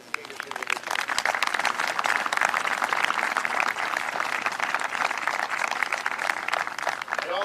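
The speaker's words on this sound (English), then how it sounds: "Please join me in a round of applause for these distinguished individuals" Audience applause at a Patriots' Day ceremony in Lexington honoring distinguished recipients, a broad sustained outdoor round of clapping from a crowd, steady throughout.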